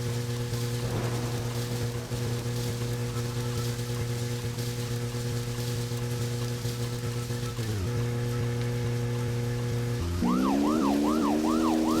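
Police car siren in the video game Deadly Premonition, driving: a steady, loud wailing tone over engine noise changes pitch midway, then becomes a rapid rising-and-falling yelp at the end.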